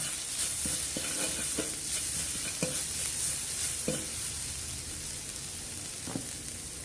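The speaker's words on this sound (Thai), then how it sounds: "ผัดให้หอมดีเลยนะคะ" Continuous sizzle of seasoning paste stir-frying in a wok with garlic oil, with repeated scraping and clacking of a utensil as it is stirred, irregular and close.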